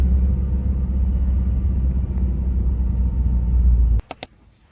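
Car driving along, a steady low road rumble inside the cabin that cuts off near the end, followed by a couple of sharp clicks, no talk.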